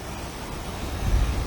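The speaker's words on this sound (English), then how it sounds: "the beautiful crashing of the waves and stuff" Ocean waves crash and wash below the cliffs at Silver Rock and Inch Marlow, a steady broadband roar with a deeper surge swelling near the end, heard alone without voices.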